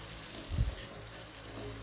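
Bitter gourd with green chilli and garlic sautéing over high flame until golden brown, giving a steady close sizzle with a brief louder burst of stirring.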